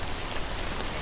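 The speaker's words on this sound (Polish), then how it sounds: "Ten deszcz to kurde niszczy nam w ogóle te skrzynki" Steady, dense rain pours in the video game Death Stranding, a loud continuous hiss of drops with no pauses or voices.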